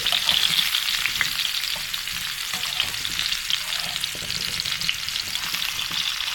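Vegetables for pickle fry in hot oil, a dense, continuous crackling sizzle heard up close with small pops and no talk.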